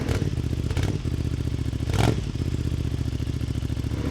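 Aprilia Tuono 660 Factory motorcycle fitted with an SC Project exhaust, idling and blipping the throttle close by, a loud steady low engine pulse with a sharp rev swell at the start and another around the middle.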